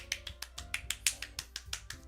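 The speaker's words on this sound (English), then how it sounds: "I'm the first to start applauding." Applause sound effect from the video game Doki Doki Literature Club: a quick, evenly spaced run of about a dozen crisp, faint clap-like clicks, heard alone.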